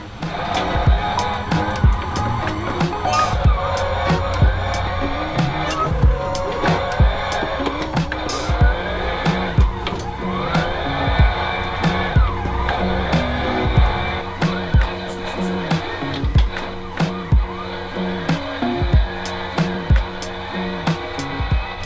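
Drifting simulator video game: a car engine revs and winds through gears while tires screech in repeated skids, loud and continuous with sharp clicking bursts throughout.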